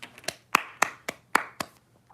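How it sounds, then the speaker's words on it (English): Hand claps, about seven sharp separate strikes in an uneven rhythm, close and fairly loud with no talking. "I'm clapping it up for the Broncos."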